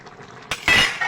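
Raw banana and fish curry is stirred in a pan with a metal spoon, giving a sharp clink followed by a louder scraping, clattering stir lasting under a second, close and alone without talk.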